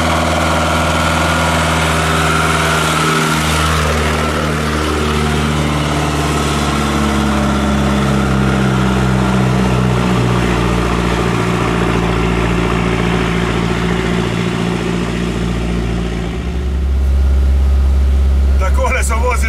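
A TAM 130 T 11 truck with a small four-cylinder diesel engine labouring under load, a loud, steady, low droning rumble with a rising deeper surge near the end, heard from inside the cab.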